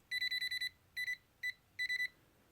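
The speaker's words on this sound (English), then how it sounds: "a beep means that that wire is hot" A non-contact voltage tester gives loud, high-pitched electronic beeping near a live wire, in rapid clusters of pulses separated by brief pauses, close and clear with no talking.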